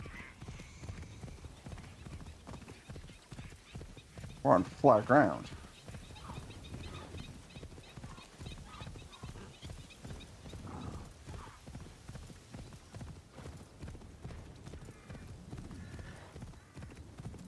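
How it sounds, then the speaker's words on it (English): Steady clip-clop of horse hooves trotting throughout in the video game Assassin's Creed Shadows, joined briefly by a horse's whinny, while a person talks over the rhythmic footfalls. "Thank you for getting on the horse."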